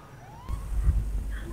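Police car siren in GTA V Online, a brief wail rising in pitch and then holding steady over low rumbling traffic and engine noise from within the game.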